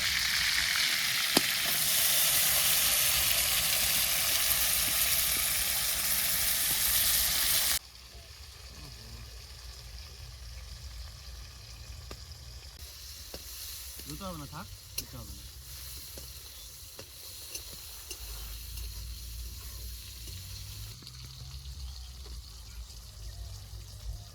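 Pointed gourd fries in a pan at an outdoor village cooking spot with a loud, bright sizzle for the first several seconds. The sizzle then drops to a quieter, steady fry with occasional stirring scrapes.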